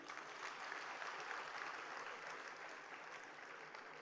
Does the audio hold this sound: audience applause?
yes